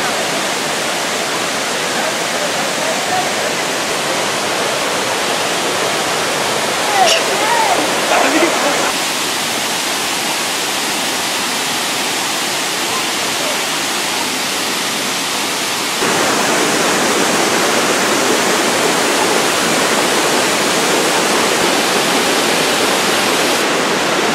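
A waterfall roars in a broad, steady hiss of falling water at a walking trail near Kuala Lumpur, loud and continuous throughout, with a brief bit of background voice partway through.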